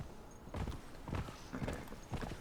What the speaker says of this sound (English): Man, these horses are so hard to turn.